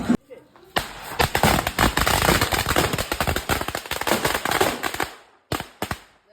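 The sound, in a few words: firecracker bursting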